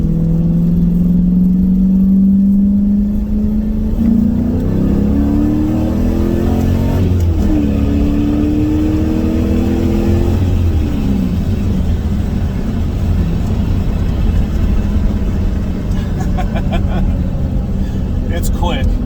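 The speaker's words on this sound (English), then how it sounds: "Just going to do a second gear pull." A 1983 Pontiac Firebird SE with a 5.7 LS1 V8 and six-speed manual makes a loud second-gear pull, the engine note climbing steadily, easing off, then settling into a rumbling cruise, with someone talking over it.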